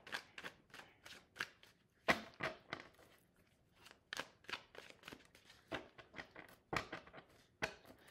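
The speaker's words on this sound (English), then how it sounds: "let me pull some more cards" Tarot cards being shuffled and pulled by hand, a quick series of crisp riffling snaps and slaps in irregular bursts, close up and alone.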